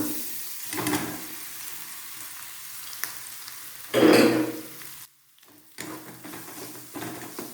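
Cashews and raisins sizzle gently in a pan for banana pachadi, with soft stirring and a brief scrape as coconut powder is added; quiet, close, with a short silent gap.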